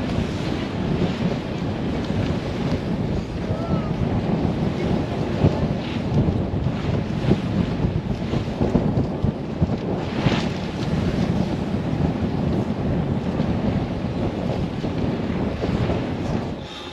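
Strong, building wind and heavy waves on a sailing boat at sea, a loud continuous roar of gusts buffeting the microphone with water rushing and slapping throughout.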